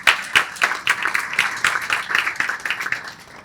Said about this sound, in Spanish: también un aplauso muy fuerte para